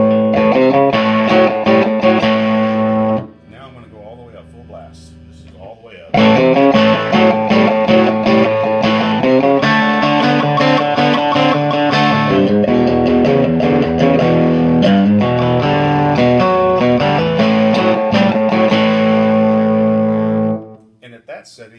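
Electric guitar played through a Port City amp with light overdrive, the amp just breaking up, chords ringing with a gritty edge, a brief quieter passage in the middle before strumming resumes.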